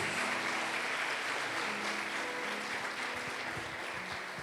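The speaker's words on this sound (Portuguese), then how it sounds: "Aplauda Jesus." A church congregation applauds together, a full, continuous wash of clapping that fills the hall, steady and moderately distant.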